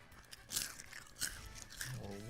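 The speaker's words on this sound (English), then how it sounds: "I'm gonna get one more loud crunch in the mic." Snack crackers crunch loudly right at a microphone, three separate sharp bites spaced about a second apart, with a faint voice near the end.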